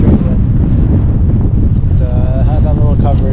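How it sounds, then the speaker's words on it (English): Strong wind buffets the microphone during an outdoor bike ride, a loud, steady broadband rush that fills the whole clip with only brief faint tonal squeaks near the end. "just straight wind"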